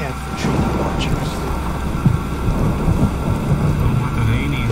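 Heavy rain hisses steadily with a low rumble of thunder rolling underneath in the video game Ghost of Tsushima, dense and continuous throughout.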